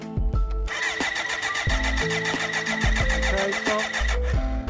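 A car engine cranks over repeatedly with the starter turning in a fast, even rhythm during a cold compression test, loud and close, with brief pauses between cranking bursts.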